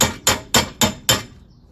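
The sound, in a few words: hammering front wheel bearing on 2008 Cadillac SRX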